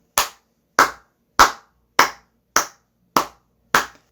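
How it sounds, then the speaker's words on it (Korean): One person claps slowly and deliberately seven times at an even pace, each clap crisp and close, with silence between them. "고생한 제작진에게 박수를 드립니다"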